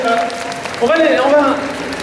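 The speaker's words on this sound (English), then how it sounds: "Jessica, on les applaudit, nos amis cosplayers" An audience at the Paris Manga convention claps for cosplayers on stage, a moderate burst of applause heard under a presenter's voice speaking French over a microphone.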